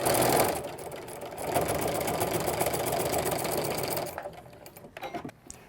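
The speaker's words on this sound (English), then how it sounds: "I'm just stitching this down, keep it in place for when we're ready to stitch the rest of the top on" A sewing machine runs a basting stitch on fabric, a close, steady mechanical whir that pauses briefly, hums continuously for several seconds, then breaks into a few short bursts and stops.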